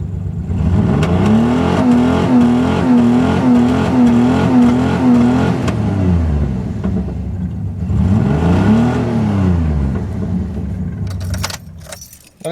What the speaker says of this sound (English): His truck is straight piped.